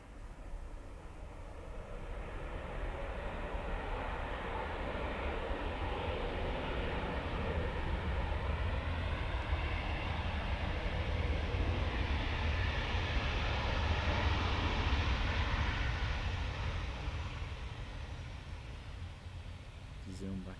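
Broad, steady roar of a Ryanair airliner at Dublin Airport, swelling slightly and holding loud for about twenty seconds as it passes, with no talk over it.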